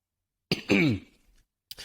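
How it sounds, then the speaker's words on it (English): A sharp, close cough bursts out after a moment of silence, followed by the start of another cough at the end. "I'm just like trying not to cough all over the microphone"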